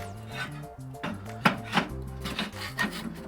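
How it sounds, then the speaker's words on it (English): A ceramic heat deflector is set into a Kamado Joe Classic II grill heated to about 170°C, giving a few hard clunks and clinks over a soft musical background. "We're going to place our deflector"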